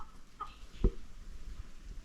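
Farm chickens clucking, a brief soft cluck and a sharp low thump amid quiet background noise, no voices heard.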